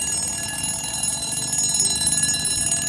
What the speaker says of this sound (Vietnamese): Chuông báo thức rồi cũng còn hoạt động rất là tốt ha.